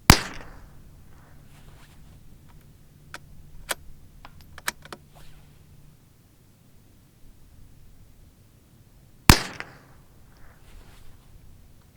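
Two sharp, loud cracks of an old .22LR rifle firing at a 200-yard range, one at the very start and another about nine seconds later, with faint clicks and handling noise in between.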